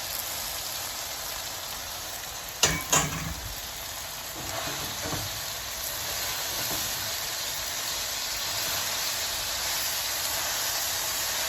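Callaloo and saltfish stirred together in a frying pan for a Jamaican dish, a steady sizzling hiss with a couple of sharp utensil scrapes early on, then a constant simmering fry.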